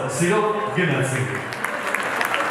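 Wedding guests clap loudly as a steady wash of applause, continuing beneath an announcer's amplified speech throughout.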